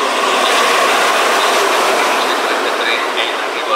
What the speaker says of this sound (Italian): Il treno regionale veloce di Trenitalia, proveniente da Milano Centrale e diretto a Milano